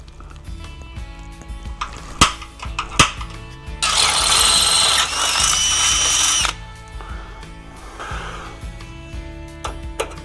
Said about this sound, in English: I'm going to drill a hole, put one of those in there, and that way we can bolt that up.